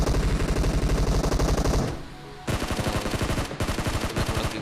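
Automatic gunfire in PUBG Mobile solo versus squad gameplay: dense, loud, rapid bursts fire almost nonstop, break off briefly, then resume with equal intensity.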